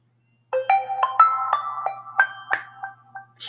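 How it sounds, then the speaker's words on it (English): A bright electronic OnePlus Nord N200 5G ringtone plays a quick, bouncy melodic sequence of plucked tones, clear and close, with a few sharp percussive ticks. "OnePlus ringtone."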